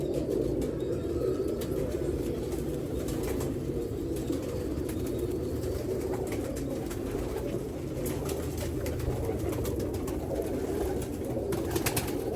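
Teddy pigeons coo softly and steadily from close by through a continuous low murmur, with a few faint chirps and light wing rustles over a constant background, and no talking.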